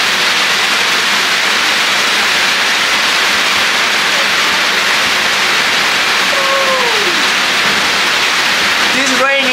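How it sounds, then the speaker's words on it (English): A steady, dense hiss of heavy rain pours throughout, loud and close, with a faint brief tone near the end. "This rain is crazy,"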